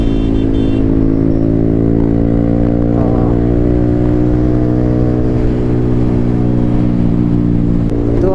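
A motorcycle engine drones loud and close while riding along a main road, its pitch steadily rising and falling with throttle changes, wind rumble underneath and no talking.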